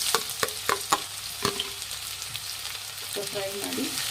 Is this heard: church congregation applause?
no